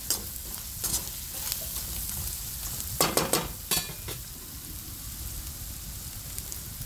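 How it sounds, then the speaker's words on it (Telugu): Grated coconut frying in a pan for ivy gourd chutney gives a steady close sizzle, with a cluster of scraping stirs in the middle and no talking. "కొబ్బరి కొంచెం వేగాలంటే, కొబ్బరి పచ్చివాసన అనేది కొద్దిగా పోతే చాలు."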